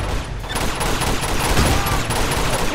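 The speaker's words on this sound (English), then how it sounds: "machine gun over there!" Machine gun fire in Uncharted 2: Among Thieves Remastered rattles continuously and loudly throughout, a dense volley of game gunfire with no pause.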